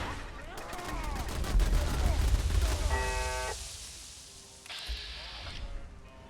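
Gun turrets in Fallout 4 fire at super mutants in rapid, loud bursts of automatic gunfire that build and then thin out, followed by synthetic electronic game tones.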